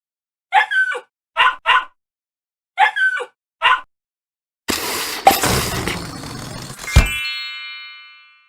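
A puppy gives four short, sharp yips spaced across a few seconds, loud and close. A burst of crashing, shattering noise follows, ending in a bright ringing chime.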